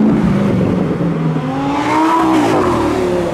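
A Ford GT and a Lamborghini Performante rumble and rev loudly close by, with a rising engine note as one accelerates, no voices heard.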